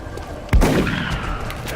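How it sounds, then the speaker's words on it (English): A single sharp gunshot in the video game XCOM: Enemy Within, a sudden loud crack followed by a short decaying tail over a low ambient background. "I'm going to take a pot shot at this guy"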